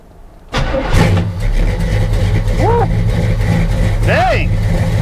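A GMC C20 pickup truck engine cranks and catches abruptly, then settles into a loud, steady close-up idle with a couple of brief revs, while people talk over it.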